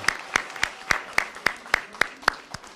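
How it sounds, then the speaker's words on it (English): Applause at a 2021 promotion and graduation ceremony for young students: evenly spaced, sharp claps roughly every quarter second, sounding like a small group clapping in rhythm or a single nearby clapper, with a faint background. "Let's give these youngsters a round of applause."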